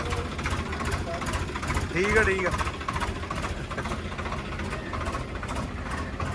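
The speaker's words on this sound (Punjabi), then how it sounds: "ਲਓ ਜੀ ਦੋ ਬੰਦੇ ਟਰੈਕਟਰ ਚਲਾ ਕੇ ਲੈ ਕੇ ਚੱਲੇ ਨੇ ਜੀ" A tractor engine runs steadily while it is driven along with two men sharing its seat, giving a continuous low, pulsing rumble close by. Someone speaks briefly over the engine.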